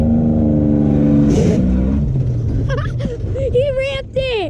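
A Toyota Tacoma engine revs loudly at close range as it accelerates hard, a rising engine drone that fades into excited voices and a high-pitched shout toward the end.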